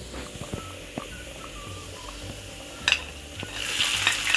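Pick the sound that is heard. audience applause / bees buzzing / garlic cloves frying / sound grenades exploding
garlic cloves frying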